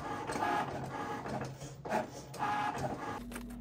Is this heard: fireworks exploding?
no